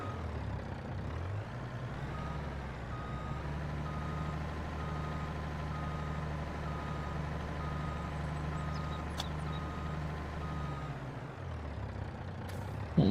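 Steady reversing beeps from a truck in a Farming Simulator game repeat for over ten seconds over a constant low engine hum, with a brief air-brake hiss near the end and no voices.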